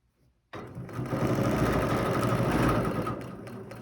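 A sewing machine stitches in the ditch along a quilt seam, starting abruptly after a brief quiet and running as a steady, close, fast mechanical whir that eases slightly at the end.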